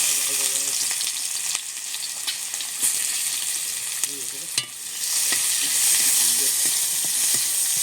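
Chopped onion and five-spice with dried red chili fry in a pan, crackling and hissing loudly and steadily, broken by occasional sharp spoon scrapes and spatters.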